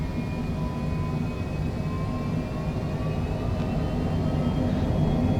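A Cessna Citation Longitude business jet in Microsoft Flight Simulator 2024 rolls down the runway for takeoff, its engines holding a steady, loud broadband roar with a faint high whine rising gradually.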